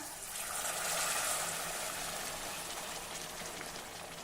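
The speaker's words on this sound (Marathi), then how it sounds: "आता यामध्ये आपण पाणी घालूया" Water pours steadily for a few seconds into roasted rice in a pot, a continuous splashing hiss, fairly soft and without pauses.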